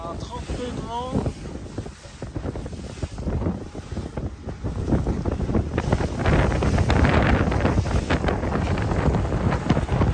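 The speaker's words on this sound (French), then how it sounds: "Il y a 32 de vent." Strong 32-knot wind at sea aboard a sailboat off southern Greece, buffeting loudly and steadily and growing stronger toward the end, with water noise beneath and brief talk near the start.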